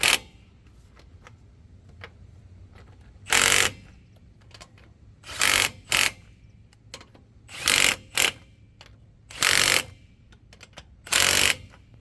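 Impact wrench driving lug nuts with a socket on a car wheel, set to a lower speed: six short, loud broadband bursts of roughly half a second to a second, spaced unevenly across a quiet background.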